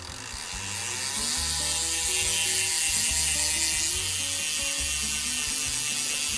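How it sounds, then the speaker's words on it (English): Rapid, loud buzzing clicks from the freewheel of a Scope R4 carbon rear hub with a 36-tooth diamond ratchet, spinning continuously close to the mic and rising slightly in intensity with no speech. "Let's do the hub, the freewheel hub sound test."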